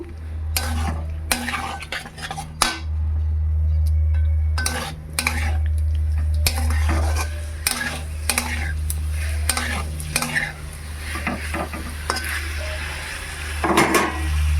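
Boiled potato, raw banana and papaya being stir-fried in spices in a pan, with repeated rhythmic spatula scrapes and knocks against the metal over a continuous close sizzle.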